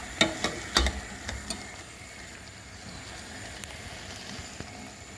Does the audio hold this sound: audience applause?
no